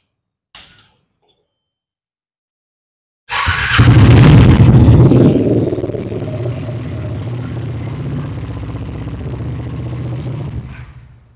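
A Triumph Speed 400 motorcycle engine starts after a brief click and a pause, flaring into a loud, close rev before settling into a steady idle rumble that runs for several seconds, then cuts off.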